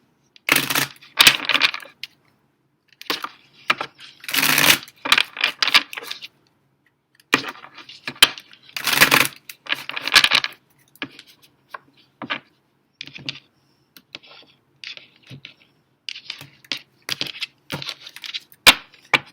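Rapid bursts of crisp rustling and flicking as tarot cards are shuffled, coming in irregular clusters close to the microphone with brief pauses between.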